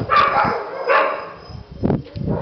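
A female dog barks in a few loud, separate bursts spread over a couple of seconds, with no talk alongside.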